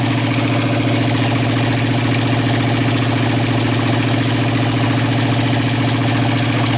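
A problem motorcycle's engine idling steadily, a continuous low rumble with a strong mid-range drone and faint knocking texture, close and loud without pause.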